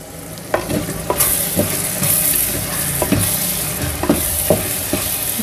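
Chilli powder being stirred into egg curry frying in a pan: a steady sizzle runs throughout, with a spoon scraping and knocking against the pan at irregular intervals, close and fairly loud.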